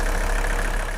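Steady, dense idle of a Mercedes 300TD diesel engine, close and constant for about a second, with no voices.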